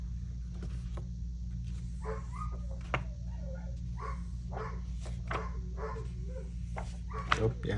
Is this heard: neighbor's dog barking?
yes